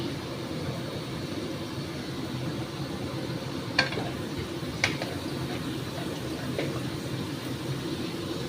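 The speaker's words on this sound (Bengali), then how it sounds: "একটু ভালো করে ভাজছি।" Potatoes frying in a pan, a soft steady sizzle held at low level throughout, with a few brief clicks of stirring standing out.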